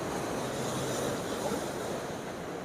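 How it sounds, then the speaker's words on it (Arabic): Sea waves breaking along the Cleopatra corniche in Alexandria, a steady broad roar of surf with wind buffeting the microphone throughout, loud and continuous with no clear pauses. "اللي عايز يستمتع بشكل الامواج دي وتصور معاها"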